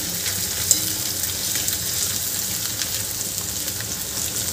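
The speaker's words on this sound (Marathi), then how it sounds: "यामध्ये आपल्याला आलं लसूणची पेस्ट घालायची आहे आणि ही आलं लसूणची पेस्टसुद्धा आपल्याला यामध्ये मिक्स करून घ्यायची आहे." Ginger-garlic paste fries in a pan for a raw papaya curry, giving a steady, fairly loud sizzle with faint stirring scrapes and no voices.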